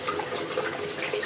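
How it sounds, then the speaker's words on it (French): Water runs from a bathroom sink tap while someone rinses their face, a steady, even splashing rush that lasts the whole moment with no talking. "maintenant je vais rincer mon visage"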